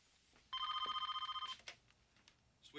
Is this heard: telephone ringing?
yes